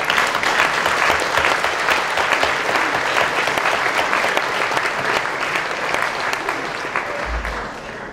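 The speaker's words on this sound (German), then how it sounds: "Ich bitte um einen Applaus." Loud, dense audience applause at a civic reception held by the town of Wülfrath, continuous and close, then easing slightly toward the end.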